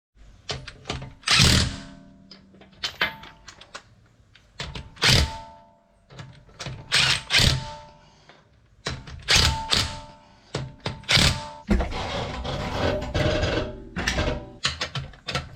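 A car wheel is refitted and its wheel bolts tightened during ABS sensor work, heard as repeated close thunks, clanks and rattles of tools and metal in irregular bursts, with no talk.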